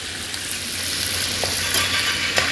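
Meat, chicken for a capsicum chicken dish, frying in a pan as a steady, dense sizzle that holds at an even level, with a couple of faint clinks near the end and no talking.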